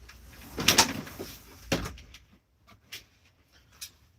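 A door on a camping truck slams shut with a loud thud, quickly followed by a second bang and then a few faint knocks and bumps in a quiet setting.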